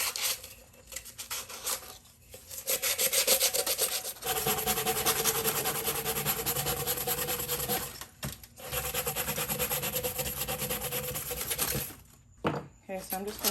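A tumbler coated in epoxy being sanded with 180 grit sandpaper, long close scratchy rubbing passes broken by short pauses, with a voice speaking briefly at the end.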